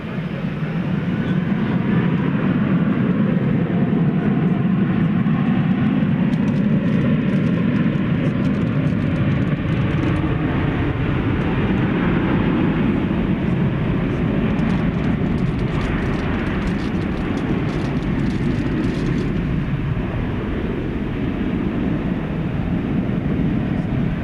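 An airliner at DFW Airport at night, a loud continuous low jet roar that swells and holds steady, with faint higher whine and crackle on top, heard from a distance with no talking.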